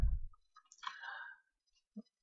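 A few soft, sparse keyboard taps on a computer, spread out with quiet gaps between them, close and faint.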